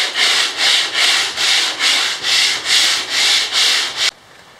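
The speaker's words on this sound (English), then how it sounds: "So I got some sanding finished" Sandpaper rubs back and forth over the wooden top of a homemade kayak, about nine even, loud rasping strokes in a steady rhythm before stopping abruptly.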